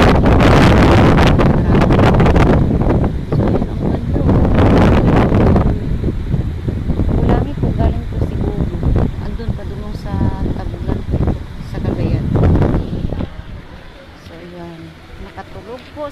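Strong wind on a mountain in Valencia buffets the microphone in loud gusts, easing toward the end, while people talk intermittently beneath it.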